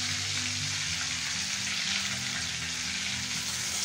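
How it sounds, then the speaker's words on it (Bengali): Dried red chillies, bay leaves and whole spices fry in hot oil left over from frying fish, giving a steady, close, continuous sizzle with no talking throughout. "আমি শুকনো লঙ্কা, তেজপাতা, সাদা গোটা দিয়ে ফোড়ন দিয়ে দিলাম।"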